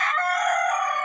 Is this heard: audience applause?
no